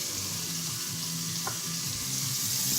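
Chopped onions sweat and sizzle in olive oil in a pot on the stove for a cauliflower soup, making a steady, close frying hiss throughout with no talking.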